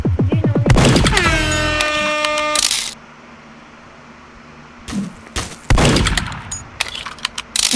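Revolver gunfire in a shooting video game cracks loudly in a few sharp bursts, separated by quieter stretches of game noise.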